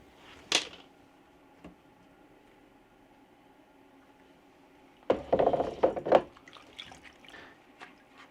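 Rusty metal parts are washed by hand in a tub of hot soapy water: an early splash and a faint drip, a long quiet stretch, then a burst of close sloshing and knocking.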